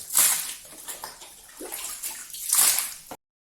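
Cut catfish pieces being washed in water, with splashing and sloshing in bursts, fairly close and moderately loud, and no talk.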